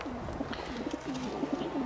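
A racing pigeon coos softly in a short series of low, throaty calls, faint and close, over quiet background noise.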